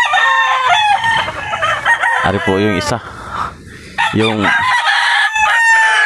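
Gamecock roosters being readied for a cockfighting event crow loudly and close by, several long calls in succession, with someone speaking between them.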